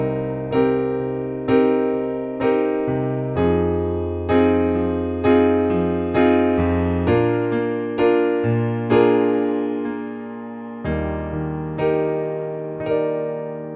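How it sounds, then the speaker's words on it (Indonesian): A minor seventh chord with root, flat third, fifth and flat seventh is played as a music lesson example, struck repeatedly in a steady rhythm with each chord ringing and decaying, alone with no talk. "Sekarang kita akan melihat pada chord minor 7."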